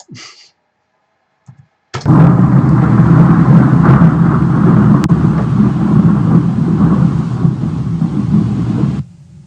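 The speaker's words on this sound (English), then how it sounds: "That was the sound of some thunder snow in Amarillo with this last storm system that came through." A sudden, long low rumble of thundersnow during a snowstorm in Amarillo rolls for about seven seconds, broad and steady before cutting off; a few faint clicks come just before it.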